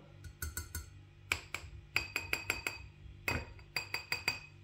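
Glass items from an online order clink against each other during unpacking, in a quick run of sharp, bright taps that come in bursts and sit close and fairly quiet.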